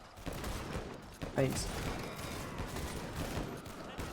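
Rifle and machine-gun fire crackles through WWI trench combat in the game Over The Top, a dense, mid-distance fusillade of overlapping shots running throughout.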